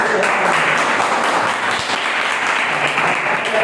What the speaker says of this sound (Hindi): जिसको आया वो ताली बजाइए